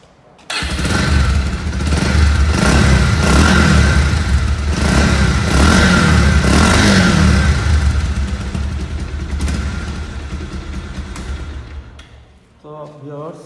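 A Bajaj Pulsar 150cc motorcycle engine starts and revs up loudly close by, holding a steady rough idle with rising and falling throttle for about ten seconds before cutting off; voices talk over it.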